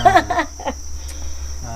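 Crickets on a cricket farm keep up a steady, high, continuous trill close by, while someone talks briefly over it.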